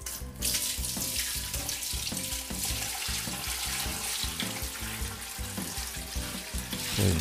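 Whey pours and splashes steadily for several seconds while draining from cheddar curds, a continuous gushing stream running into a container, with no voices.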